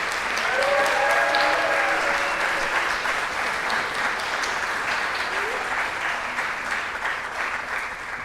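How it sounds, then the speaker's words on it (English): A lecture audience gives Dr. James Lindsay sustained applause, a dense, steady clatter of many hands that holds throughout, with a few brief whoops or voices rising over it early on. "Let's give him one more round of applause."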